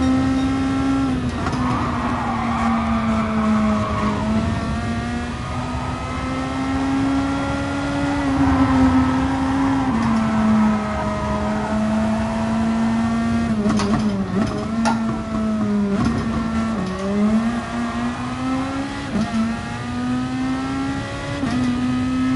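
Race cars in a racing video game lap the Fuji circuit, one engine droning loudly and continuously with rising and falling pitch as it accelerates and shifts, other cars faintly audible behind it.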